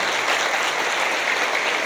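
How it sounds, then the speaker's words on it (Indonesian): Steady, dense applause from an audience at an Islamic girls' boarding school gathering, a continuous wash of clapping at an even level with no voices. "Tepuk tangan untuk kita semuanya hari ini."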